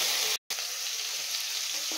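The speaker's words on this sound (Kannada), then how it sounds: "ಇದು ರೋಸ್ಟ್ನಲ್ಲಿ ಹೋಗೋ ತನಕ ಹುರ್ಕೊಬೇಕಾಗುತ್ತೆ, ಫ್ರೈ ಮಾಡ್ಕೊಬೇಕಾಗುತ್ತೆ ಆಯಿಲಲ್ಲಿ" Spice paste fries in oil for a padaval (snake gourd) dish while being stirred, a continuous close hiss broken by one abrupt moment of silence.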